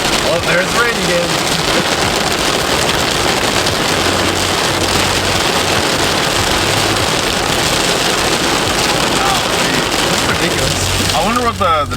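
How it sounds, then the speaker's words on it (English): Heavy rain drums hard and steadily on a moving Ford F150 truck during a drive, a loud dense wash of noise with a low engine hum underneath and a brief rustle at the end. "Oh, there's the rain again."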